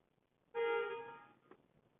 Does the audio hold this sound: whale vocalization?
no